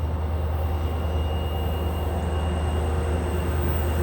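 Forty-car freight train hauled by three locomotives, a loud, steady low rumble of engines and rolling cars passing close by without pause, no talking.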